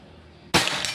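A single sharp, crisp shot from a Pajero gen 6 air rifle cracks suddenly out of near silence, followed by a brief bright ringing tail.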